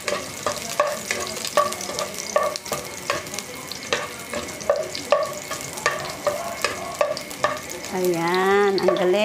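Chayote and carrots being sautéed in a pan, a steady sizzle with repeated scraping strokes of a utensil in an even rhythm, followed by a short burst of singing near the end.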